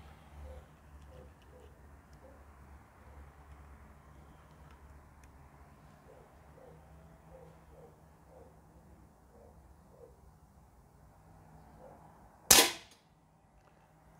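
A Feinwerkbau P8X air pistol fires a 4.51 mm, 7.33-grain pellet in a quiet room: one sharp, loud crack near the end after a long stretch of faint background ticking.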